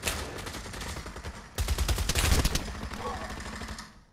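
Rapid gunfire bursts crackle in a Pavlov VR free-for-all deathmatch played on PSVR2, with automatic volleys growing heavier midway before tapering off, close and loud.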